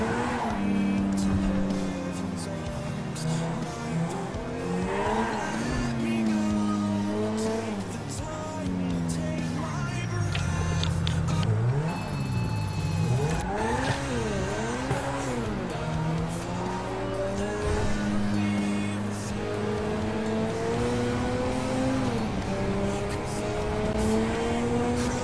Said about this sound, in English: Wow, this car sounds so nice.